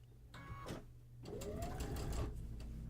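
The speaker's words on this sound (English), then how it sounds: "I'm trying to keep the sewing machine sound out of it" A sewing machine starts up and runs in a steady, fairly quiet mechanical whir after a few brief clicks and a pause.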